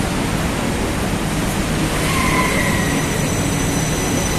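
An LRT Jabodebek light rail train runs between Dukuh Atas and Cawang in Jakarta, giving a loud, steady rumble and rushing noise with a faint wheel squeal.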